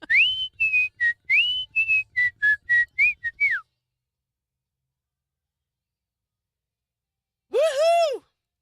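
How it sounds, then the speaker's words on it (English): A person whistles the bright, bouncy Andy Griffith Show theme in short phrases for several seconds, then silence, followed by a brief warbling whistle near the end. "Now whistle the Andy Griffith theme song."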